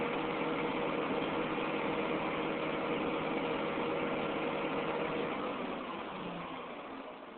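An excavator engine runs with a steady, dense mechanical drone that holds constant and then eases off slightly near the end, with no voices.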